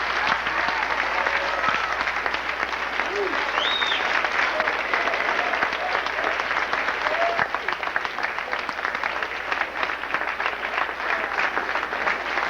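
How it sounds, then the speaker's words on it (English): Sustained applause from a high school audience in an assembly hall fills the whole stretch, dense and steady clapping with faint crowd murmur underneath and no break. "please, and let's give them a round of applause."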